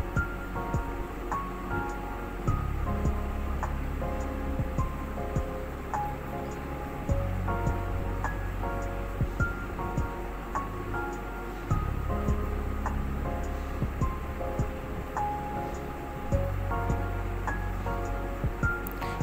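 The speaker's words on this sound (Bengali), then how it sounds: "রসুনগুলো একটু ব্রাউন কালার হওয়া পর্যন্ত ভেজে নেব।" Chopped garlic fries in hot oil with a continuous close crackling sizzle that holds steady throughout, over a faint tonal background.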